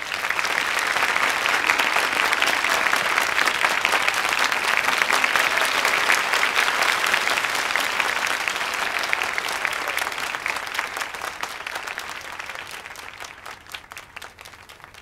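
An audience stands and applauds to welcome the Red Hats Punjab team, dense sustained clapping from a large crowd that holds steady for several seconds, then gradually thins and fades toward the end.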